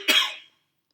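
A single sharp cough, close and clear, fading quickly into silence.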